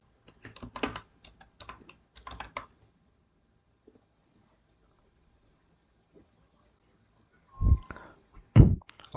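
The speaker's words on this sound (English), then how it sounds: "let's type one more message" Computer keyboard typing a chat message, with quick bursts of close, crisp key clicks early on, a long quiet pause, then a few heavier thumping keystrokes near the end.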